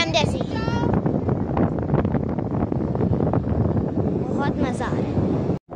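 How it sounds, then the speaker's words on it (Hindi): Strong wind buffets an outdoor microphone in a steady, loud roar throughout, with people talking and a voice over it. "अभी तो बहुत तेज हवा चल रही है"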